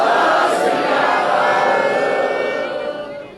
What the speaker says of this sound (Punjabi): ਇੱਕ ਦੋ ਨਾਰੇ ਬੁਲਾ ਕੇ ਫਿਰ ਆਪਾਂ ਫਤਿਹ ਬੁਲਾਉਨੇ ਆ ਬੋਲੇ ਸੋ ਨਿਹਾਲ